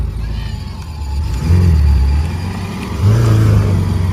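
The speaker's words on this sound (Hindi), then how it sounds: "गाइस बार बार एक्सीलेटर दे रहे हैं।" A car engine is revved twice in quick surges while the car stands still at the start of a race. The pitch swells near the listener and then settles back over a steady rumble.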